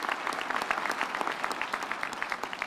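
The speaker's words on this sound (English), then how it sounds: "A round of applause for our musicians, ladies and gentlemen" Audience at a university graduation ceremony applauds the musicians, a steady patter of many hands clapping at moderate distance with individual claps standing out.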